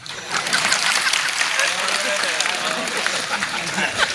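Audience applause at a large Marathi religious discourse (kirtan) with tens of thousands of listeners: dense, steady crowd clapping, a continuous broadband patter running through the whole stretch without a voice over it.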